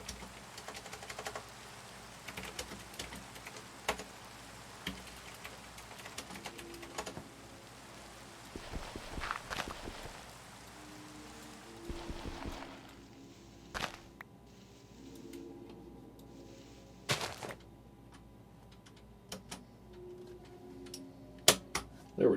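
Typing on an Azio Retro Classic Bluetooth keyboard, with crisp clacky keystrokes in irregular bursts and pauses, close and fairly quiet, as rain falls softly in the background.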